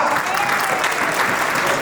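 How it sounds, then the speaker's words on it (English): An audience at a travel company's 25th anniversary celebration claps steadily for a community figure, dense, even applause that holds at a constant level for the whole stretch. "Please give a big round of applause for Malik Mushtaq."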